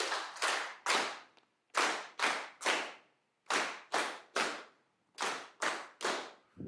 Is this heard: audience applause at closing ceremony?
yes